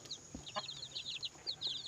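Native chickens and Black Australorp chicks cluck and chirp in short bursts throughout, with a few higher peeps mixed in, close by against a steady background hum.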